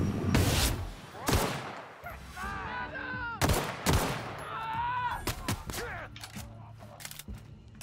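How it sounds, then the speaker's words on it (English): Pistol gunfire in the video game The Outer Worlds: several sharp, loud shots spaced a second or two apart, mixed with other game effects and whooshing tones between them. "We'll draw them in with a pistol."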